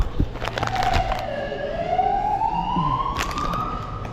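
Police siren wailing outside a store in a South Mall in Manurewa, New Zealand, its tone sweeping down then slowly rising, fairly loud over busy background noise with a few thumps.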